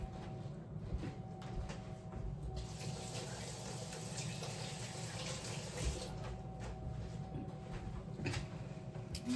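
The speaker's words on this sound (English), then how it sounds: "I'm just going to rinse my hands really quick." Hands being rinsed under a running kitchen tap after making hot chocolate brownies, a steady, faint hiss of flowing water that carries through the whole stretch.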